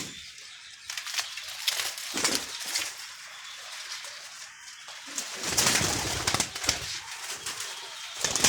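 Fancy pigeons coo in a loft among steady broadband rustle and flutter, the soft calls recurring through the stretch without any voices.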